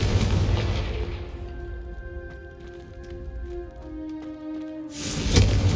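Confringo fire spell in Hogwarts Legacy, a loud whooshing burst that fades into a low rumbling, crackling tail, followed by a second fiery blast at the end.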